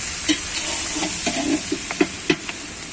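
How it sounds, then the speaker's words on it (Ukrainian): Vegetables for bograch fry in a pot over a campfire with a steady close sizzle, broken by several sharp scraping knocks as they are stirred. "Наші овочі вже піджарилися."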